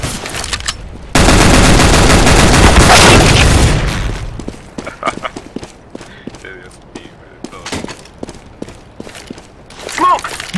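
Counter-Strike: Global Offensive gameplay with a dense burst of automatic gunfire and grenade blasts, followed by scattered single shots and footsteps while players talk over the action.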